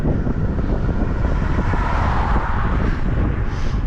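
Strong headwind buffets the microphone of a moving bicycle on a road trip, a steady loud roar of low rumbling wind noise across the whole stretch with no voices.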